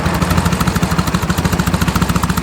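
A 1935 Indian motorcycle with a foot clutch runs close by in a loud, steady, rhythmic chug, its even low thumps repeating quickly as the rider eases the clutch and throttle.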